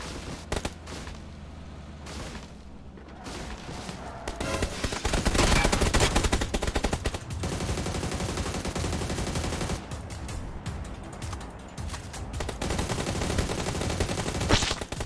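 Bursts of gunfire from the mobile battle-royale game PUBG New State, dense overlapping shots that swell louder midway and continue steadily through the stretch, with no voices over them.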